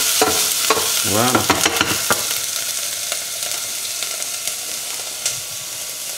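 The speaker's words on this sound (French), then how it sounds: "l'échalote, on va la faire revenir légèrement" Shallot sautéing gently in a pan over lowered heat for a butternut velouté, a steady close sizzle and frying hiss running throughout, with stirring noises early on and a brief voice in the background.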